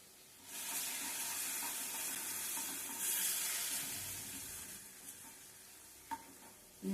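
Onions and spice masala with ginger and garlic frying in a pan for a meat curry, a steady soft sizzle with occasional stirring scrapes and a sharp clink near the end.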